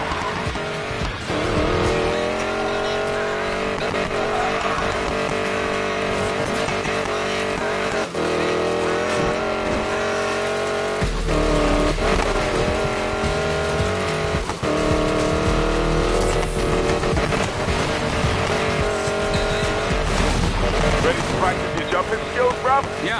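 A hypercar loaded with prototype black market tech races in Need for Speed Payback, its engine roaring loud and steady throughout with tire squeals breaking through, and voices faint underneath.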